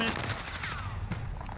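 Video game gunfire crackles in quick, rapid bursts like automatic weapons, mixed with other game sounds at moderate loudness.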